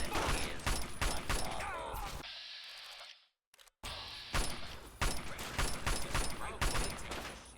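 Enemy gunfire in Fallout 3, loud repeated volleys of shots in bursts, broken by a brief near-silent gap before the shooting resumes.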